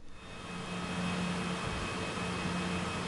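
Steady jet aircraft engine drone from Microsoft Flight Simulator 2024 gameplay on PS5, a constant whine and low rumble holding at even volume without talk.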